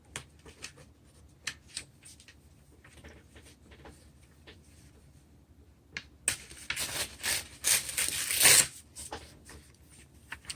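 A sharp Nagao Higonokami folding knife slices a scrap of field-notes paper, close and quiet: light scattered taps and handling, then a brief, brighter rasping cut lasting about two seconds.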